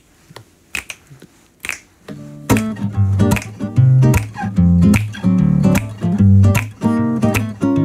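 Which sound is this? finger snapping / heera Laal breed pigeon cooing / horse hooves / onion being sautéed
finger snapping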